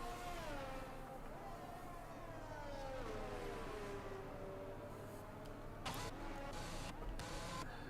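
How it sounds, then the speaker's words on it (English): A Red Bull racing car in a racing video game, heard on board through a right-hander, gives a steady engine whine whose pitch sweeps down and back up as it brakes and accelerates, with a quieter voice murmuring underneath. "Riding on board with the Red Bull as it comes through that right-hander"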